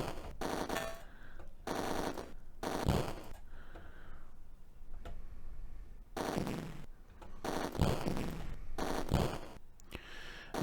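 Targets are blasted in an Atari ST rail shooter, Roller Coaster Rumbler, with repeated loud, close volleys of electronic gunfire separated by quieter stretches, and no talking.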